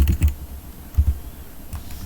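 Close keystrokes on a computer keyboard in short clustered bursts, a few quick taps separated by brief pauses, with no voice.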